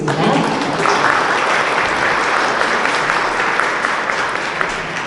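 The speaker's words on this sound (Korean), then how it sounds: "박수 부탁드리겠습니다." An audience applauds at a ceremony for a diary exhibition event, with loud, dense and sustained clapping from many hands that carries evenly through the whole stretch and fades slightly at the end.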